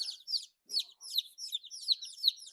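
Baby chicks, layer and meat birds, huddle in a brooder and give off a close, steady stream of high, rapid peeps and chirps that barely pause.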